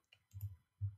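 A few soft, quiet computer mouse clicks sound in quick succession in a quiet room.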